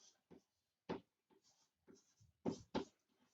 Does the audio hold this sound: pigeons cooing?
no